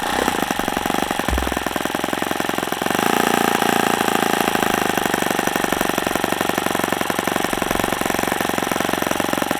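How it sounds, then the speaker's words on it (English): A new O.S. FS-40 Surpass four-stroke model engine idling on its first run, a loud, rapid, buzzy, steady chatter that continues without break for nearly ten seconds. "have you ever seen a new in-box engine idle like that right out of the box on the first run?"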